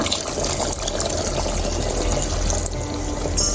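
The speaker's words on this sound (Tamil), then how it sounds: "அரை கிலோ அரிசிக்கு ரெண்டு கிளாஸ் தண்ணி ஃபுல்லாக ஊற்றுங்க இப்படி" Two full glasses of water pour steadily into a pot of soaking rice for Sri Lankan chicken biryani, a loud continuous gushing splash lasting throughout, close up and alone.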